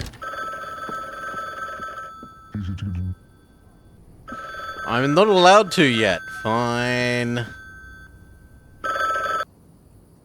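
Telephone in The Bookwalker: Thief of Tales video game ringing in repeated electronic bursts, with someone talking over part of it and game sound effects between rings.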